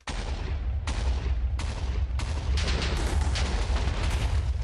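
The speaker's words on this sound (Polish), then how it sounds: "mam modyfikację na robienie wybuchów, mega wybuchów, małych dziurek" Blasts from an explosion mod in Minecraft: a series of heavy booms at roughly one-second intervals, each with a rumbling tail, that then merge into a dense, continuous crackling roar. Loud and close, with no voices.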